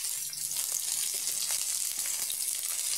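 Cauliflower and other vegetables sauté in ghee in a pan for rava khichdi, giving a steady, fairly soft sizzle with faint crackles throughout.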